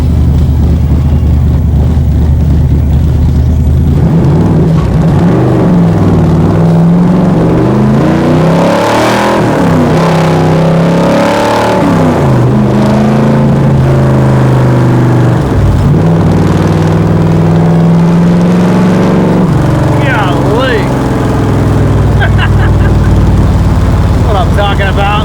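A 1965 Shelby continuation car's engine revving hard and accelerating, loud and close, with rising and falling pitch sweeps through the gears and throttle blips near the end; a voice speaks partway through.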